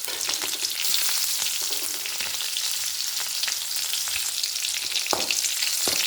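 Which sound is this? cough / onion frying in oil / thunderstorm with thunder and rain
onion frying in oil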